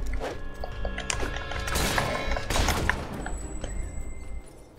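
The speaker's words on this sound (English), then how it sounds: "now we can shoot up to 3 times" Rapid gunfire in Fable III, a burst of loud cracking shots packed close together with thumping, woody impacts, heard alone over game background.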